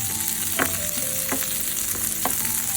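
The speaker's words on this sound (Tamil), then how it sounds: "போட்டு வதக்குங்க. நல்லா கொஞ்சம் வதக்குங்க." Chopped onions sautéing in a pan for a crispy bitter gourd fry: a loud, dense sizzle of hot oil throughout, with three or four spatula strokes scraping the pan at steady intervals, close and with no talking.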